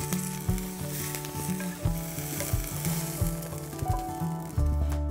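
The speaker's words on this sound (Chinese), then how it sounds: "我们现在开始下锅炒，先把红椒和葱白给它煎一下" Red peppers and scallion whites fried in oil in a wok for a Guangdong crab and chicken pot dish: loud, steady sizzling with stirring scrapes and a fresh burst of frying near the end.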